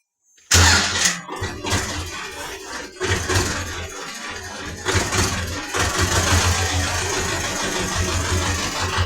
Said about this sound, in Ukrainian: Так, я завів трактор.